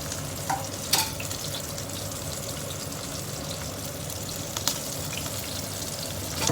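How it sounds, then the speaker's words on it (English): Fish escabeche simmering in a pan, giving a steady bubbling sizzle throughout with a couple of brief clinks and scrapes, no talk. "I'll simmer it for maybe 10 minutes"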